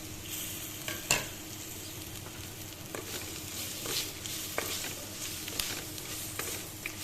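Fish pieces fry in hot oil in a pan for a sour fish curry, giving a steady, close sizzle with a few sharp clinks of stirring and no voices.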